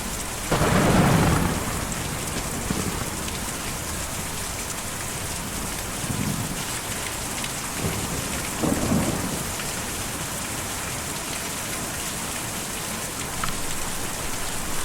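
Steady rain with rolling thunder fills a stormy scene in the video game Kentucky Route Zero; a loud rumble opens, followed by several softer thunder swells over continuous rainfall, with no talking.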